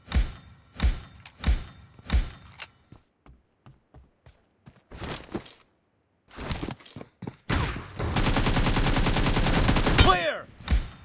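M4 rifle fire in PUBG: a few sharp single shots early on, then a sustained loud automatic burst lasting about two seconds near the end, with sparse thumps between.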